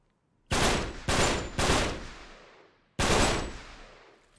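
Four loud, booming gunshots in the video game Uncharted 3: Drake's Deception ring out in an irregular sequence, three close together and one after a pause, each with a long echoing decay.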